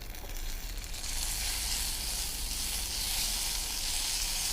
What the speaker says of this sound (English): And now I'm adding these leaves to all the roasted spices.